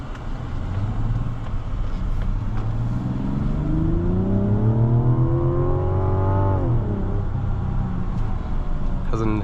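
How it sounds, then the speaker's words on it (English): A 2024 Mazda CX-90 turbocharged 3.3-litre inline-six revs under steady road noise, its pitch climbing smoothly for several seconds before dropping sharply, then settling back to a low drone. "Engine has a nice sound."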